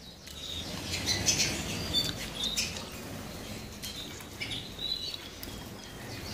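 Red mosaic canaries flit around an aviary with a dense patter of wingbeats and a scatter of high chirps, close and busy throughout.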